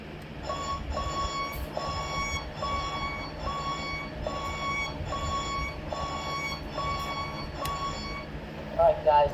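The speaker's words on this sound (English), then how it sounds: "this no start sound is from Back to the Future Part 3 when they were in the barn" The DeLorean no-start sound effect from the barn scene in Back to the Future Part III, played through a Futaba sound unit: a steady run of faint, repeating electronic beeping pulses, roughly one each second.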